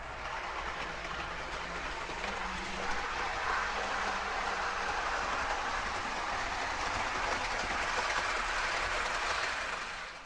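A Hornby Olympic Javelin model train set runs along its track, giving a steady, continuous rolling rumble and whir with faint rhythmic clicking, fairly close and unbroken throughout.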